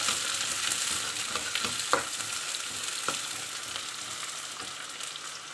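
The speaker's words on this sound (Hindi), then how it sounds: "तो ये प्याज बिल्कुल ब्राउन हो गया" Onions frying in a pan while being stirred, a steady bright sizzle with occasional scraping clicks of the spoon, close and alone with no talk.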